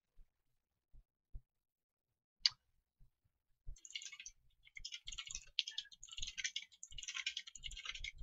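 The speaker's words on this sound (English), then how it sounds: "I'm just typing a lot." Computer keyboard typing while coding a Next JS and Node JS web project, starting as a few scattered isolated clicks, then settling into a fast, continuous run of close, quiet keystrokes with no talking.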